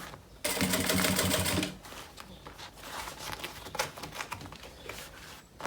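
A sewing machine stitches a backpack seam in a short, loud burst, then falls to quieter handling and fabric shuffling nearby.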